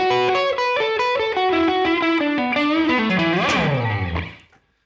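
Heavily overdriven electric guitar plays a slow blues lick: a run of descending picked notes, then a wide bend that swoops up and back down before the final note fades out.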